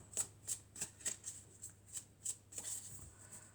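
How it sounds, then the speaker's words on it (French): A deck of oracle cards is shuffled and cut close up, giving a quiet run of about a dozen crisp, evenly spaced riffling bursts with nothing else heard. "Alors, je vais couper et je vais prendre cette carte."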